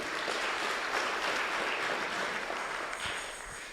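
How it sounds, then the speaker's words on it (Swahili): Church congregation clapping during a Kikuyu-language service, a dense continuous round of applause from many hands that fades slightly at the end. "Tumpigie makofi."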